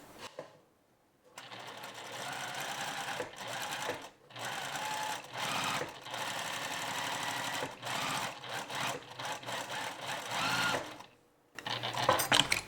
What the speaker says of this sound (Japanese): ポケット周りを粗いミシン目で縫います。